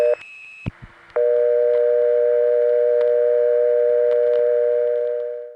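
A low steady telephone tone made to mimic an old-fashioned dial tone, briefly preceded by short switching tones, then holding loud and constant for several seconds before fading.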